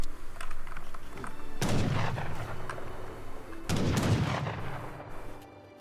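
Cannons fire in a video game battle, two heavy booming blasts a couple of seconds apart, each rolling out into a long rumbling decay over steady background noise, with no talk.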